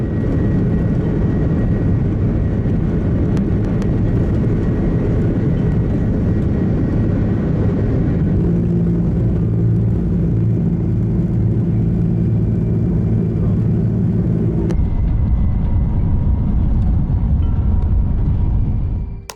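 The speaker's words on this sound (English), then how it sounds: "An Airbus A330 was taking off when it encountered a flock of birds, resulting in a sudden bird strike." Heavy, continuous low rumble of an Airbus A330 jet engine during takeoff after a bird strike, loud and steady with a droning vibration that shifts in tone partway through and cuts off abruptly at the end.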